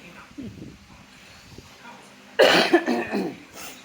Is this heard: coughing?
yes